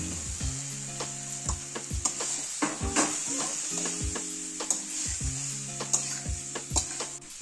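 Chicken and potatoes tipped into a hot pan with a little water for a potato chicken curry, giving a steady close sizzle with repeated stirring scrapes and clinks throughout, no voices.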